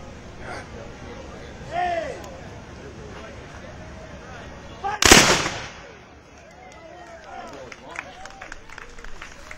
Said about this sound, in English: you may want to plug your ears because they're going to shoot their guns